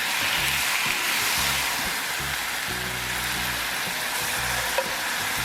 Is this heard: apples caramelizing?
yes